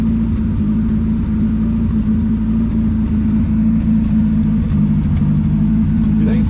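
A 1972 Ford Pinto Runabout engine idles with a misfire and an exhaust leak, a steady, close, low rumble that holds throughout with little change in level.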